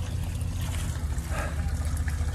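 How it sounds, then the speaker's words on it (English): A water jetter flushes debris from inside a storage hot water tank, making a steady low rushing and gurgling wash with a faint splashing trickle. "the jetter's flushing away inside the tank now,"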